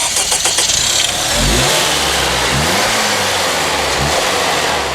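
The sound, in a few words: Acura 2.3 liter turbocharged iVTEC engine revving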